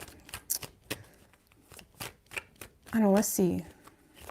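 Tarot cards are shuffled during a reading, with soft riffling card rustles and taps scattered between a woman's spoken words and a brief vocal exclamation.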